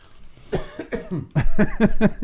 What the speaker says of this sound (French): Il tousse.